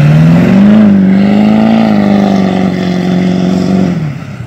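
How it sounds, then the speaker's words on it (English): A Duramax diesel pickup truck driving away, its engine a loud, steady, low drone that holds up close for several seconds with a slight rise in pitch, then starts to fade at the end. "my brother's heading out with the Duramax diesel."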